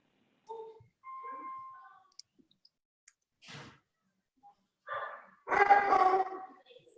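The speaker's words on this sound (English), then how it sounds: "That's my dogs." Dogs bark and whimper in short, scattered bursts inside a quiet room, with the loudest, fullest barking arriving near the end.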